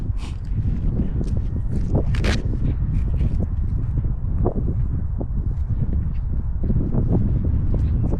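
Cold early-spring wind in Korea blows outdoors and buffets the microphone in a constant loud rumble, with scattered clicks and knocks from nearby handling.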